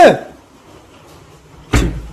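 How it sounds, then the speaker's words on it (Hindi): A door is shut at home with a sharp, loud thud near the end, following a softer knock or clatter at the start. "दरवाजा बंद कर दिया उसने।"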